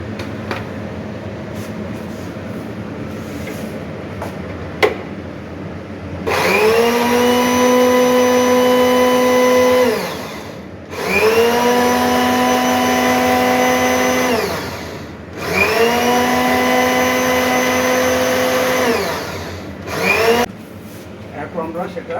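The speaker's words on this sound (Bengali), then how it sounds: "তারপর সেটাকে আমরা ব্লেন্ড করে ফেলব।" A blender whirs loudly in three long bursts of several seconds each, separated by short pauses, while blending a sample for total suspended solids measurement in a lab setting.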